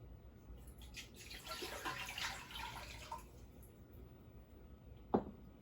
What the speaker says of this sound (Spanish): Lo primero que vamos a hacer es poner el agua en esta olla.